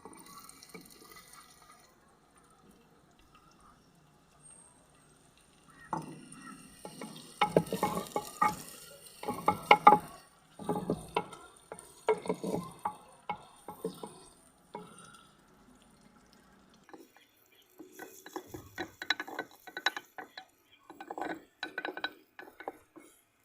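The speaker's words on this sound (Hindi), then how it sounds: "हमारा घी गर्म हो चुका है। अब इसमें प्याज डाल लेंगे।" Onions dropped into hot ghee and stirred, with bursts of sizzling and scraping that start after a quiet opening, fade briefly, then return; no talking.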